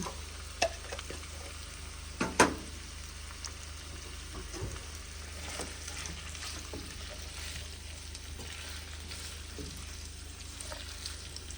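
Sausage with peppers and onions frying in a skillet for a black-eyed pea and sausage dish, giving a steady, low sizzle with a few sharp stirring clicks near the start and no talking.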